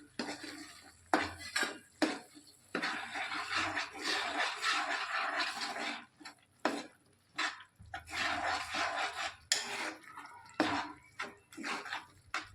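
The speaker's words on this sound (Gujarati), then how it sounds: "હવે તેમાં આપણે લસણ, મરચું અને આદુની પેસ્ટ ઉમેરી અને તેને પણ એકદમ હલાવી લઈશું" A spoon stirs and scrapes garlic, chili and ginger paste around a pan with oil, in irregular bursts of metallic clinks and scraping, close up, with short pauses and no voices.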